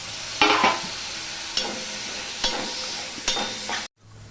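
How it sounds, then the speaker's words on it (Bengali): Tomato and green chili fry in a kadai while a spoon stirs them, four distinct scraping stirs over a steady close sizzle, then the sound cuts off abruptly. "এবার আমি টমেটো আর কাঁচা লঙ্কাটা দিয়ে দিলাম"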